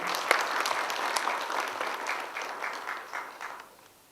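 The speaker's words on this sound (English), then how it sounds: "A big round of applause" A crowd at a programme launch event in Nepal breaks into dense, steady applause that holds at moderate loudness and then thins out and fades toward the end.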